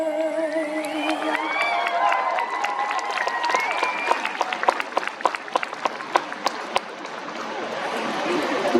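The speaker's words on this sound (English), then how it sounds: "Let's give her one more big round of applause" An outdoor airshow crowd claps and cheers after the national anthem, with a few whoops and shouts early on, then the applause thins to scattered, separate claps toward the end.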